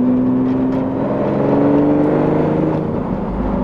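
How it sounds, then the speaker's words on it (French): The V12 of a new Lamborghini Countach, in sport mode with manual shifting, drones and whirs from inside the cabin, a steady low-pitched engine note shifting tone as it revs, loud and close. "La résonance du V12 est assez incroyable"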